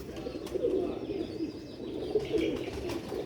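Pure Sialkoti pigeons coo softly with repeated low, throaty phrases, fairly close but faint, with slight background rustle and no talk.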